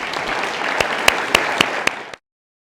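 An audience at a tech talk bursts into applause, a dense close clatter of many hands with a few sharper individual claps, lasting about two seconds before cutting off to silence.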